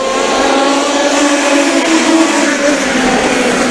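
US Legend race cars roar together at Riverhead Raceway, a dense, steady engine drone with overlapping revving tones, loud and continuous throughout.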